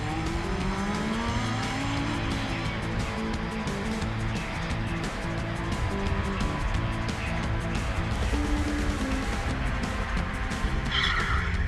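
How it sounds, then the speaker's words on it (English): A light, high-powered Formula SAE race car spins out as its tires skid and squeal, with the engine droning loudly and continuously underneath throughout. "With a car like this, where you got an extra amount of horsepower and not a lot of weight, get on the gas real quick and just spin right out."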